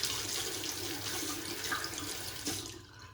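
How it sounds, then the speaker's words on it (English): A razor rinsed under a running tap: a steady close rush of water splashing into a sink for a few seconds, then tapering off at the end, with no voices. "Let's rinse the razor off here."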